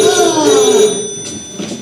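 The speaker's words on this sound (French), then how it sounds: "Le téléphone." A telephone bell rings loudly and close by in a French stage comedy, a single sustained ringing burst that fades toward the end.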